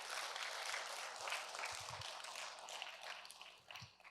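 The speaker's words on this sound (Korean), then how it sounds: "박수로 마치겠습니다" Soft, distant applause ripples through a church congregation at a Friday prayer service, a faint even wash of clapping with a few low thumps near the end.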